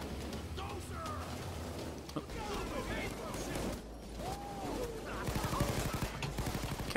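Police assault gunfire in the Payday 2 heist Boiling Point: bursts of automatic fire and scattered shots crackle through a busy game mix, growing denser and more rapid toward the end, with players talking over it.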